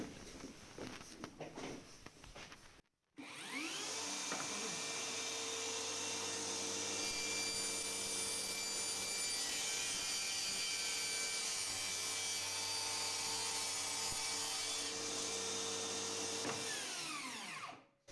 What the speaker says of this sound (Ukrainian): на допомогу нам приходить така маленька бжикавка девальтовська